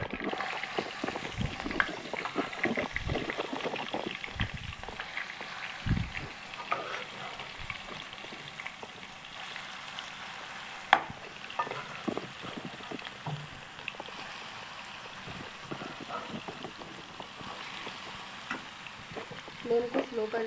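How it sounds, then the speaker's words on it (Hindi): Carrots cooked in milk sizzle in ghee with cardamom in a pan for carrot halwa, a steady close frying hiss broken by scraping stirs, with a voice speaking faintly over it. "हम अच्छी तरह से भून लेते हैं।"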